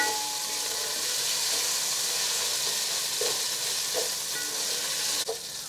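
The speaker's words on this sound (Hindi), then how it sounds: "अदरक लहसन की खुशबू अच्छी सी आए फ्राई होने की वहाँ तक हम इसे भुनेंगे" Ginger and garlic frying in a pan while dal chawal is cooked: a steady, close, broadband sizzle runs throughout, with a few soft stirring scrapes near the end.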